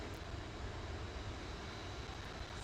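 A steady, faint engine roar from a Boeing 707 airliner in Microsoft Flight Simulator holds as a constant drone with no breaks or voices.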